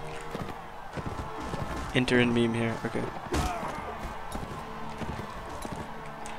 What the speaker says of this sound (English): Goddamn horse.